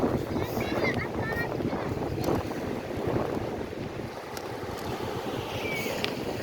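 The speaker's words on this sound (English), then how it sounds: "The wind is, now it feels like 62. Wind's blowing." Wind gusts steadily across Fort Myers Beach, Florida, during a seaside bicycle ride, with a loud, constant rushing buffet on the microphone and shoreline ambience beneath.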